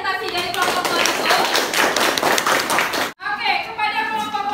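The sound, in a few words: applause for a class group presentation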